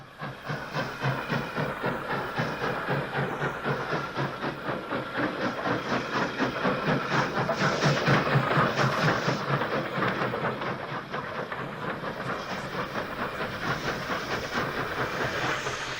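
Caledonian Railway steam locomotive number 123 pulls two Caledonian coaches away from Bridge of Allen station toward Callander, giving a loud, steady chuffing exhaust with hiss of steam and rhythmic rail clatter that builds then eases slightly.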